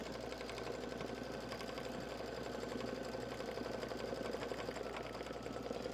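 An embroidery machine stitching a design, running with a fast, even mechanical whir and needle patter that holds steady and moderately quiet throughout.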